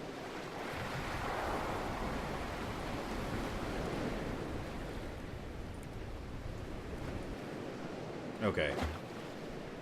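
Steady wash of ocean waves and wind while sailing a boat in the video game Salt, a continuous rushing surf that holds level throughout, with a brief clatter near the end and a voice speaking briefly.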